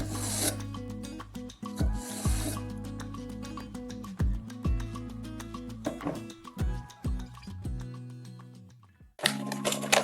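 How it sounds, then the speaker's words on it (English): A knife blade scraped between two plastic bottle caps, giving repeated rasping strokes in short bursts with brief pauses between them, close and fairly loud. "Run the knife blade between the caps and a simple knife sharpener is ready."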